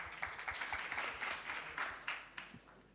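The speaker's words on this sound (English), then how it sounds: "Please applause." Audience applause at a young entrepreneurs' summit, a steady patter of clapping from a moderate crowd, heard at a distance and fairly quiet throughout.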